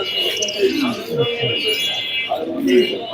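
Birds chirp and coo at a busy pigeon market in Mirpur, Dhaka, where white and red pigeons are sold in pairs; the calls carry steadily under continuous talk from nearby people.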